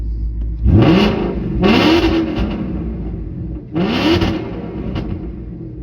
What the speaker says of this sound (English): let's get some baby revs in